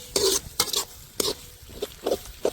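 Jaffna-style dolphin kottu is stirred and mixed in a pan. Quick scraping strokes repeat in an uneven rhythm, close and clear, with a faint sizzle beneath.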